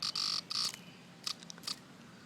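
A live cicada made to sing by touch, giving short bursts of buzzy clicking in an irregular, Morse-code-like rhythm, close and fairly loud, with quiet pauses between bursts.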